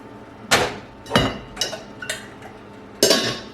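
Several sharp metallic clanks and bumps of a pot of water being set on a stove, spaced irregularly with short pauses between, fairly close and moderately loud.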